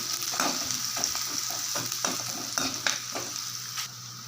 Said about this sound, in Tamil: வெங்காயத்தை நல்லா இதில் வதக்கிடலாம்